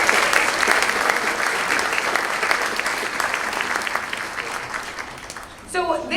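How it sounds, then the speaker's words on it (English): A school choir concert audience claps steadily in sustained applause for several seconds, fading slightly before a brief swell of cheering near the end. "let's give them a round of applause for that"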